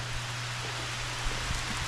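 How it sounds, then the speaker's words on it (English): Pouring rain, a steady broadband hiss with a low hum beneath it and a few faint drops, continuous for about two seconds with no talk. "It is pouring rain."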